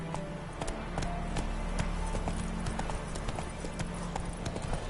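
Roach the horse galloping in The Witcher 3 video game, a steady rapid clip-clop of hooves throughout, close and fairly loud over a constant low rumble, with faint speech touches.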